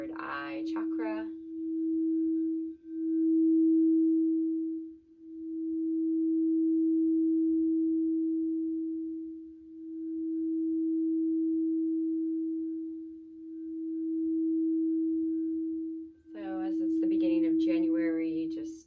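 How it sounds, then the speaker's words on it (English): Sustained pure sine-like tone from a sound bath for the third eye chakra, held steadily in several long swells with brief dips between, with a voice speaking briefly at the start and end. "let's do a little micro sound bath with our third eye chakra."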